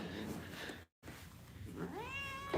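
Pet cat meowing up close, a drawn-out rising meow at the end after a short dropout, with faint rustling and low human sounds earlier.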